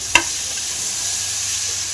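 Fried potatoes and soybean chunks stir-fry with spice masala in a pan, a steady low sizzle opening with one sharp clink of a spoon against the pan.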